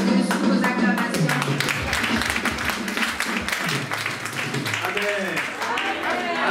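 Audience applause at a church gathering, a dense wash of clapping filling the room throughout, with a voice speaking over it toward the end.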